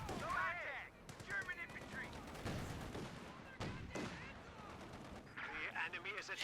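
Canister shot fires in the video game Company of Heroes 2 as a series of sharp gunfire bursts and booms. Battle noise runs throughout, and a voice talks over part of it.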